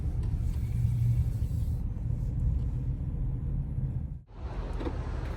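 A car drives slowly through a busy parking lot at a Canadian gym, a steady low engine rumble heard from inside the vehicle that briefly dips before resuming.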